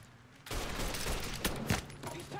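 Mafia 3 gunfire crackles in a dense, loud burst of rapid shots over about two seconds, with a couple of sharper cracks standing out near the middle.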